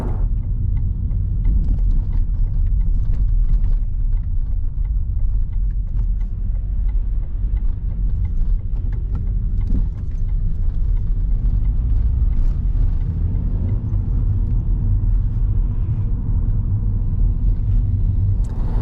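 Vauxhall Zafira driving along narrow country lanes near Appledore, Kent, heard from inside as a steady low engine and road rumble throughout, with faint mechanical rattles and no voices.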